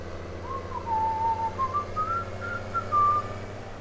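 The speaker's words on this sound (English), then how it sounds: "There's the whistling." A person whistles a wavering, sliding tune in short phrases, up close over a low steady hum, with no speech.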